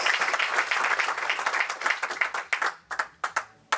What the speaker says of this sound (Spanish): Denle aplauso fuerte al Rey de Reyes y Señor de Señores.